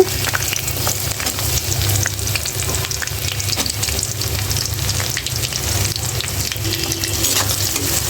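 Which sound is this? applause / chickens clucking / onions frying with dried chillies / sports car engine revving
onions frying with dried chillies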